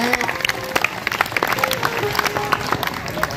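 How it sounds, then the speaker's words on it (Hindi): Audience at a school Teacher's Day celebration applauds to welcome a guest, a dense wash of clapping with some crowd murmur and faint voices mixed in. "एक बार जोरदार तालियां बजाकर सभी स्वागत करें"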